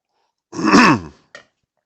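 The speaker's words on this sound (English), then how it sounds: "I'm just going to clear my throat a minute." One close, rough throat clearing, followed a moment later by a brief small grunt.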